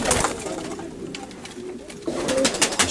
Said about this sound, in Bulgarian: Гълъбите са един особен биологичен вид.